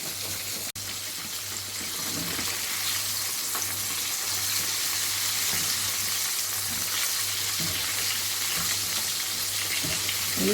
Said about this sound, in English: Chicken is still frying